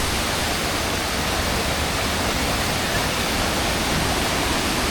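Ditumabo Mother Falls, known as shower falls, in Baler, Aurora, pours down in a constant, loud, close rush of broadband water noise that never lets up, and no voices are heard.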